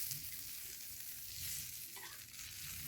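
Kenda fish fries in a pan, a close, steady sizzle and crackle with faint scraping as the pieces are stirred and turned, no talk over it.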